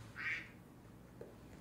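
Mobile phone ringtone of a duck quacking: one short nasal quack rings out, then quiet room noise with a faint click near the end.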